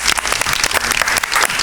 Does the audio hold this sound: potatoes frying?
no